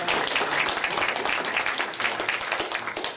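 A university audience at a board meeting applauds steadily, with dense, continuous clapping filling the room and no talking.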